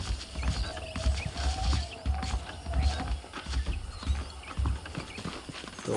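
Steady clip-clop of horse hooves walking at an even pace in Red Dead Redemption, with a low rumble and faint ambient game sounds underneath.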